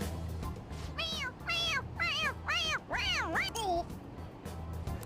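A rapid series of five or six high, bending cat meows in quick succession from the video game Persona 5 Royal, fairly loud over a steady low hum.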